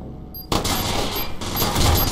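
Rapid bursts of gunfire from the video game Watch Dogs, a dense loud fusillade that erupts suddenly after a brief quiet start and continues steadily, with sharp high pings scattered on top.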